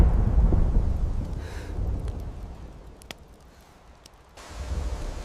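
A night thunderstorm rages over the African savanna. Deep rolling thunder rumbles loudly at first, fades into a quieter stretch with faint crackles, then swells again near the end.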